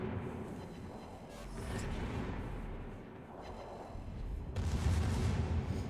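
Battleship guns fire in a World of Warships naval battle involving the USS Ohio and the Yoshino, with heavy rolling booms and rumbling blasts that swell and fade. The biggest, loudest salvo comes near the end.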